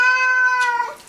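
A pet cat gives one drawn-out, clear meow close by, tapering off at the end with a faint short sound after, no talk.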